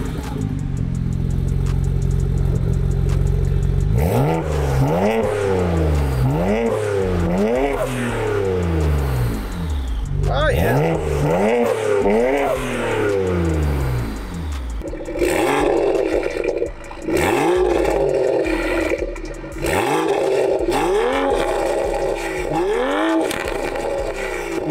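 Stock Toyota Supra with the B58 engine accelerating hard through repeated gear changes, a loud, close engine roar rising in pitch again and again with brief dips between shifts.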